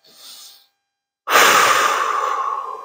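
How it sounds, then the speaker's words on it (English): A deep breath taken up close: a short, soft intake of air, a brief silence, then a loud, long exhale that slowly fades. "Now just take a deep breath."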